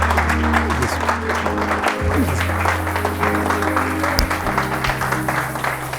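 A church congregation breaks into sustained, dense applause at a sermon, with clapping spread across the room and a low organ or keyboard chord holding underneath throughout.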